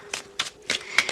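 Tarot cards shuffled by hand in four short, crisp riffling bursts separated by brief pauses, close and fairly quiet, with no talking.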